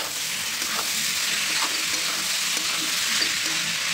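Flattened rice (chire) fries in plenty of oil while being stirred, a steady dense sizzle that runs evenly throughout with faint scraping of the spoon and no voices.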